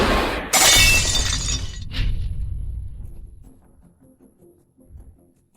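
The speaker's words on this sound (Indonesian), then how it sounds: "Barang langka 100 juta. Pecah begitu saja." A rare, valuable glass object shatters with a loud sharp crash, followed by a second smaller burst of breaking fragments, then a fading tinkling tail and quiet room tone.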